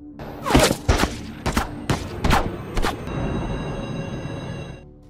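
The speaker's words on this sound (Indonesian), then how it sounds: "para polisi itu langsung memberondong Stan saat itu juga" Police open fire in a film scene: a rapid volley of five or six loud, sharp gunshots in quick succession, then a ringing, fading tail over low background noise.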